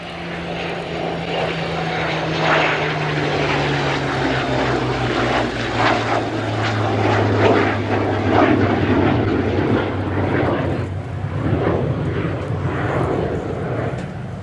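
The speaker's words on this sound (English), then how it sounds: "those Spitfires included the very one that we see flying here with the CF-188" A Spitfire and a CF-188 fly a heritage flight display at RIAT 2024, one in 402 Squadron Royal Canadian Air Force markings. A loud, steady roar of engines passes close overhead, with the pitch sliding lower as they go by.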